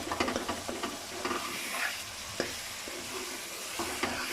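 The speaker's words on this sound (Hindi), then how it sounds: "अभी मैं इसको 1 से 2 मिनट फ्राई करूँगी।" Spice masala fries with chicken and mashed onions in a pan for aloo gosht, a steady close sizzle broken by scraping stirs and a few sharp utensil knocks, with no talking.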